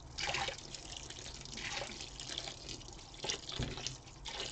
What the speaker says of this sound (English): now I'm going to throw some hot water on here.